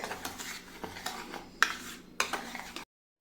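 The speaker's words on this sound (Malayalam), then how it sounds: "നാലര സ്പൂണോളം പഞ്ചസാരയും കൂടെ ചേർത്ത് കൊടുക്കുന്നു നമുക്കിതൊന്ന് മിക്സ് ചെയ്യാം എല്ലാം കൂടെ" A spoon stirs sugar into a pudding mixture in a bowl, giving soft scraping and a few sharper clinks against the side, close and fairly quiet for under three seconds before silence.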